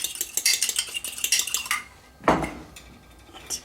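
Eggs beaten with a fork in a bowl make a rapid run of bright metallic clicks and taps for nearly two seconds, then a single louder knock and a faint final clink, with no speech.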